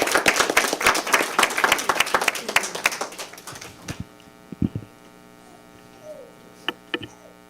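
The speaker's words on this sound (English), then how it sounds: "Let's give them a round of applause." Audience applause at a Bladensburg, Maryland town meeting, a few seconds of brisk clapping from a modest crowd over a steady mains hum, then fading into scattered claps and quiet room noise.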